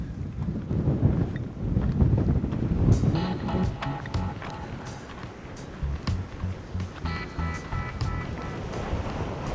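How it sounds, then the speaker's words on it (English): Strong wind gusting across a long bridge in Jamaica, a loud rushing roar buffeting the microphone for the first half, then easing into lighter, uneven gusts, no talking heard. "The wind in this section, man."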